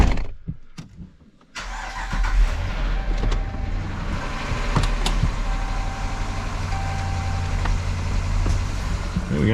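A Dodge Durango engine with a misfiring cylinder 7 cranks and catches, then settles into a steady, fairly loud idle with a rough undertone, with no talking over it.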